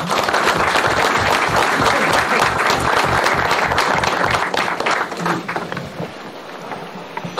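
Dense applause from a large crowd at a Turkish mayoral visit, loud and steady, tapering off slightly toward the end.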